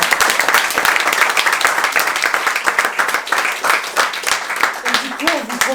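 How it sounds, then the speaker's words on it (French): Theatre audience applauding after the final performance of a play, a dense, steady wash of clapping throughout, with some voices and cheering mixed in toward the end. "Donc merci à vous d'être venus et vous pouvez vous applaudir."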